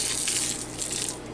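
Water rushes steadily through an RV hot water tank as it is flushed out after an anode change, a loud, even hiss and gush that continues without pause or talk.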